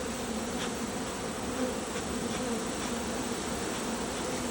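Honey bees swarm over a hive frame, giving a steady, close, continuous droning buzz that holds at an even level throughout with no other sounds.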